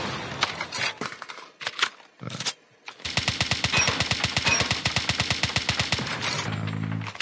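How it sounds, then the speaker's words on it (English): A slower-firing gun in COD Mobile shoots after a few scattered shots, then fires a long rapid burst of evenly spaced loud cracks for several seconds, with no talking. "This is much slower firing gun."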